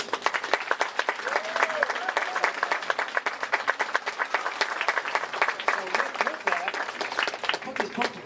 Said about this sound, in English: So let's give them all a round of applause.